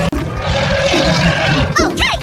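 A T-Rex in a 3D animal racing video game lets out a loud, growling roar that fills about two seconds on its own, ending with a rasping tail.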